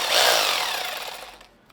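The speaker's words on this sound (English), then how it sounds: "It can hammer and drill at the same time" A Bosch Bulldog hammer drill in hammer-drill mode runs loudly with a rough, chattering buzz that gradually winds down and fades out.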